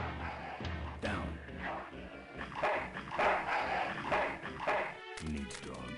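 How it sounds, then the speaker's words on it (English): Dogs bark and yip repeatedly in the PC adventure game Full Throttle, sounding over busy, dense game music and effects at moderate volume. "Bark, bark, bark."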